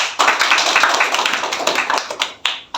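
Church audience clapping starts abruptly, a close, loud patter of many hands that thins out into scattered individual claps and a few last sharp slaps toward the end.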